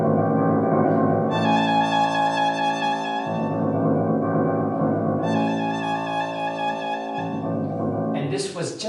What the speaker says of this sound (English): just this very simple repeated note that sounds like this.